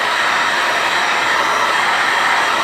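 A handheld hair dryer blows steadily at close range during a crafting session, a continuous loud airy whoosh with no break and no talking.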